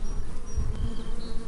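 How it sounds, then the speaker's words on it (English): Bees buzzing steadily around lavender in full bloom on a sunny day, a continuous close insect drone with a few louder passes near the listener, no voices. "just watching the bees at work"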